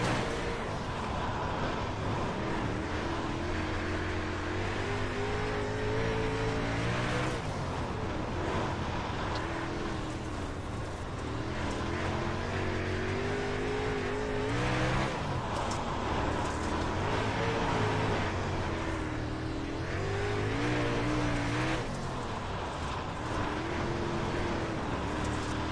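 Continuous engine drone of a super late model dirt car lapping the Kern County dirt oval in iRacing, rising and falling in pitch through the corners over a steady roar, with no talk.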